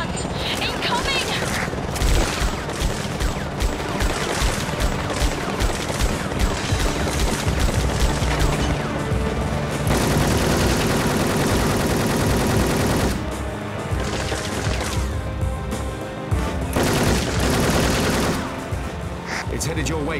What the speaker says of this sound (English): Use the machine guns!